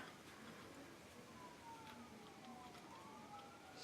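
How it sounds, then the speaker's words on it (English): Sirens from emergency vehicles wail faintly outside, their rising and falling tones drifting in from a distance over a steady background hiss. "Oh, there's all kinds of sirens."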